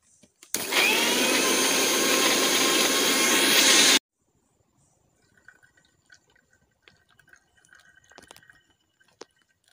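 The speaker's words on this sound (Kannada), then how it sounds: "ನೋಡಿ, ಟೊಮೆಟೊವನ್ನು ಜ್ಯೂಸನ್ನು ನಾನೀಗ ಗ್ರೈಂಡ್ ಮಾಡಿ ಸೋಸಿಕೊಳ್ತಿದ್ದೇನೆ." A mixer grinder blending tomatoes with water, mint leaves and sugar into juice, a loud, steady, close whirring roar for about three and a half seconds that stops abruptly, followed by faint drips and small handling noises.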